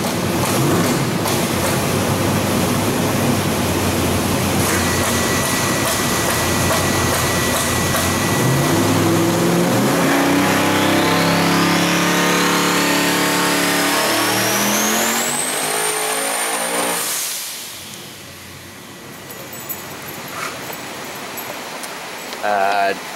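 Twin-turbo hydraulic-roller LS engine making over 2,000 horsepower on a dyno, a loud steady drone that climbs into a rising rev sweep, peaks, then drops off sharply to a quieter idle and faint clatter.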